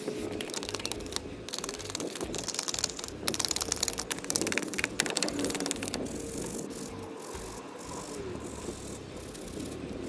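An alloy wheel being scrubbed with a brush after wheel cleaner is applied, giving close, busy rattling and bristle scratching in uneven bursts, easing in the last few seconds.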